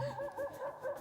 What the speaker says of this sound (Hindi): ये कुत्ता रो रहा है